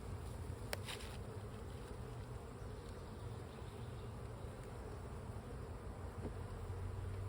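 Honeybees buzz in a dense, steady drone throughout a hive inspection, close and continuous, with a couple of faint clicks early on.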